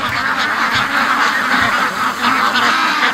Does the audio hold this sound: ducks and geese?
yes